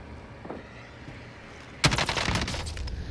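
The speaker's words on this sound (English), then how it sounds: "Ah, he sniped me." A single sharp sniper rifle shot in the video game Warzone cracks loudly after a quiet stretch, followed by a rattling burst of echoing gunfire and a lingering tail.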